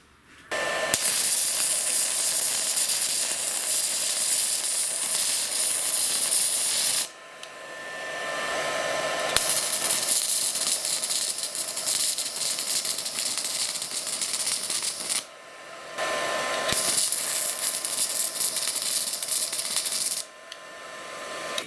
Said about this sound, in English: I'm going to stick another 1/16 rod in there. And I will try to make a better weld this time.